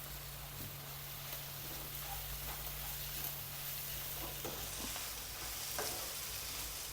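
Curry leaves hit a hot pan with prawns and sizzle steadily while a utensil stirs, giving faint scraping taps over a constant low frying hiss.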